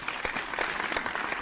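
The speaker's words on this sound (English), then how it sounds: "So let's give a round of applause" A studio audience gives a short burst of clapping, a brisk round of applause of many hands, fairly near and steady throughout.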